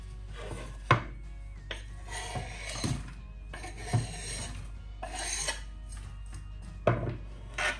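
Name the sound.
chopping tomato and green chillies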